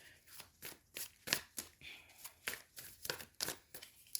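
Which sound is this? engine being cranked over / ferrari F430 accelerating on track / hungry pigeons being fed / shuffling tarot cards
shuffling tarot cards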